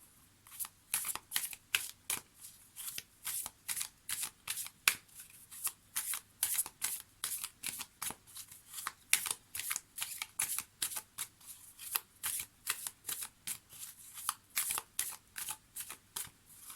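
Oracle cards shuffled for a reading, a steady run of quick, crisp riffling bursts repeating at close range, quiet and alone with no talk.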